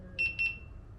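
Two quick high electronic beeps sound close by, spaced evenly, as the power alarm on a Begode Master Pro electric unicycle is triggered.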